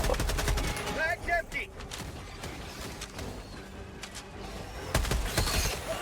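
Rapid bursts of gunfire in the video game Helldivers 2 crackle in quick volleys, with a short lull in the middle before another loud burst near the end.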